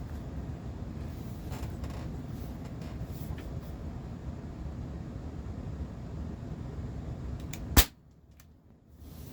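A single sharp shot from a brand-new Umarex XBG 4.5 mm CO2 air gun loaded with steel BBs, cracking out loud near the end after several seconds of steady background hiss, then dropping to near quiet.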